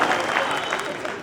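Audience applause welcoming a poet at a ghazal recital in Bhiwandi: dense, steady clapping from a crowd, close and loud, sustained without a break for just over a second.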